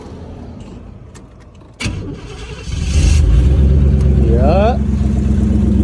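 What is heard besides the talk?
1984 Camaro Z28 engine cranking and starting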